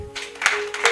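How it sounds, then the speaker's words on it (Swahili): Congregation clapping at a Friday night church vigil, a few loose bursts of hand claps over a steady tonal hum, fairly near and moderately loud. "So mpige Yesu makofi."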